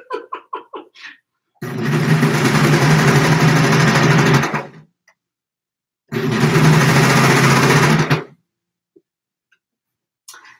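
Baby Lock sewing machine running loudly in two bursts of steady whirring stitching, each a few seconds long, preceded by a few quick ticks and separated by short pauses, close and alone.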